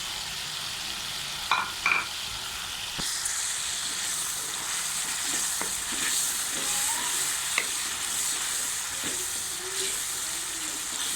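Frying potato and eggplant with salt, chilli and spices is stirred with a spoon in a pan for aloo baingan salan, a steady close sizzle that swells after a few clanks, with occasional scraping strokes and no talk.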